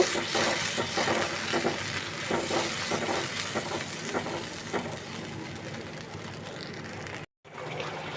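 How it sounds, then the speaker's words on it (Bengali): Tilapia pieces fry in hot oil with a steady, dense sizzle and crackle that barely changes. It cuts out for a moment near the end, then resumes. "আমি খুব ভালো করে ভেজে নেব"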